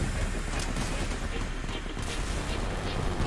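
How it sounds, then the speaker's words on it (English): Artillery fire in the Crossout vehicle combat game comes as dense, continuous booming and blasting, loud and crowded with overlapping explosions throughout. "The artillery in this game is great."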